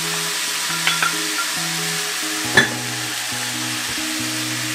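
Frozen mixed vegetables sizzle in a pot with a steady, loud frying hiss, a brief clatter from stirring cutting through, and soft background music underneath.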